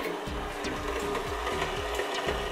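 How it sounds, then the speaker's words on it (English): KitchenAid stand mixer kneading donut dough, a steady motor whir with a rhythmic thumping as the dough slaps and turns in the bowl, close and continuous. "With a KitchenAid, a stand mixer, it's definitely faster."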